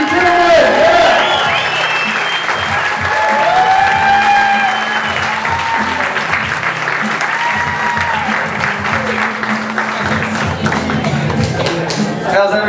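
Comedy club crowd at the Icehouse in Pasadena applauding and cheering as a comedian takes the stage, dense clapping with whoops over a low music bed, loud and steady throughout.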